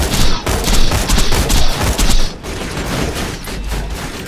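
Rapid, loud gunfire from the Torg Lance weapon in the video game Borderlands 2, with dense overlapping bursts of shots, a short break near the middle and then more firing.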